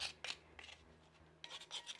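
A knife scrapes excess clay off a handmade pottery piece in short rasping strokes, several quick close scrapes with a brief pause between them, quiet and with no talk.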